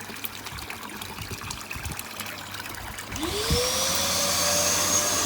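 A motorised pump starts up while draining water from an old koi pond, its whine rising and settling into a steady drone over trickling, gurgling water nearby.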